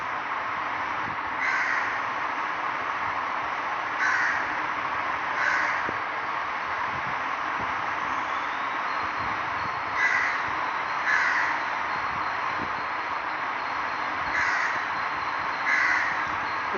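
Crows caw repeatedly in short bursts at irregular intervals, fairly near, over a steady outdoor hiss with no talking.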